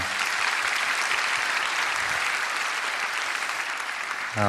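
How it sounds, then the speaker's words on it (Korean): Sustained applause from a church congregation at a young adults' prayer meeting, dense and steady throughout, ending with a brief voice or tone right at the close. "우리 하나님께 큰 영광의 박수 올려드리겠습니다"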